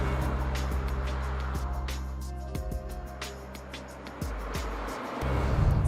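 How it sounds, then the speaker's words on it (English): Cabin hum of a DS 9 eTense 225 plug-in hybrid on the move, a steady low drone with faint tyre and road noise and a few soft thumps, heard from inside the car. "the model of DS9 that I'm driving now is the eTense 225"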